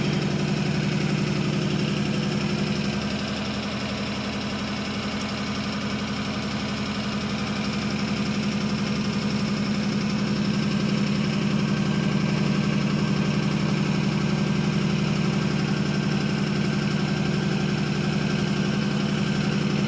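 A 1947 Ford Super Deluxe flathead V8 idles after a cold start following two years of sitting, a steady low rumble with a slight uneven lope that continues for the full stretch with no voices.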